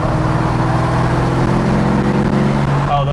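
A 1990 Mustang Saleen Fox body with 410 gears drones steadily from inside the cabin while driving, a low engine hum holding constant throughout with faint road rumble and no talk.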